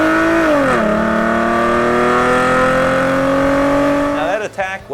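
A Mustang V6 fitted with a Borla Stinger S-Type cat-back exhaust revs loud and close, its pitch climbing and holding in a sustained drone, then dropping away with a sharp shift near the end.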